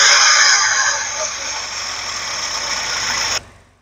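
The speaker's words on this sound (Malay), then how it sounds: "Tapi ini kau tengok ni, dengar bunyi enjin tu?" A Toyota Vios with a 1NZ-FE engine that has a temperature fault runs close by, a steady mechanical whirring hum with a bright hiss on top, holding even for about three seconds before cutting off abruptly.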